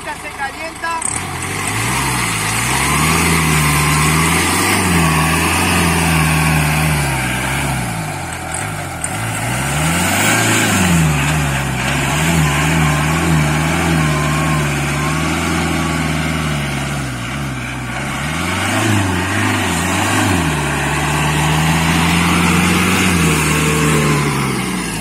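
A Ford Ranger pickup with a freshly rebuilt engine churns through deep mud, its engine droning loudly and close, rising and falling in repeated surges as the wheels spin, with someone talking over it.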